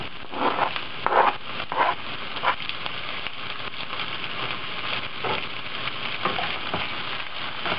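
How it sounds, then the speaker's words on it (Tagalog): Shredded chicken frying with softened onions in a pan, a steady close sizzle with several louder bursts of crackle and stirring scrapes early on, then a continuous even hiss. "ilalagay na din natin dito yung chicken. Ito yung chicken na nahimay na natin kanina."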